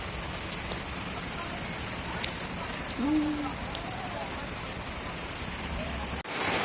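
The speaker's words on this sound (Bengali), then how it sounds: "দেখো সেই সুন্দর বৃষ্টি হচ্ছে" Steady rain falls outdoors in a dense, continuous hiss that stays close and even throughout, with a brief faint tonal sound partway through and no one speaking.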